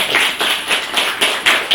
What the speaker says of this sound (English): Once again, a clap for Dr.